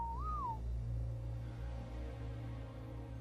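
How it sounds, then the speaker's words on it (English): A short rising-and-falling whistle tone opens the moment, the passive command in the ARK Survival Evolved video game, followed by a steady low engine-like rumble humming on underneath. "I'm going to whistle passive just before I drop this thing"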